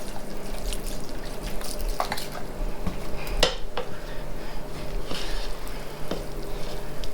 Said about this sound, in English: let's add some of the broth